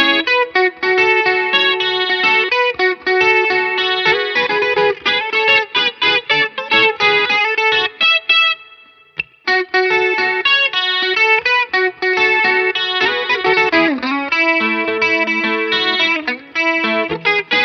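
Electric guitar playing riffs through a CE1 chorus algorithm on an MD200 effects unit, shimmering arpeggiated chords ringing continuously with a brief pause midway, loud and close with no talking.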